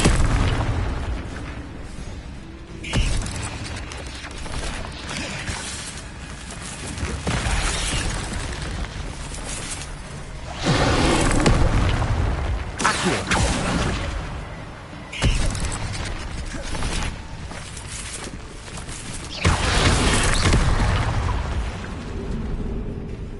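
Incendio fire spells cast repeatedly in Hogwarts Legacy: a series of roaring, whooshing bursts every few seconds over a constant loud layer of combat and ambient game sound.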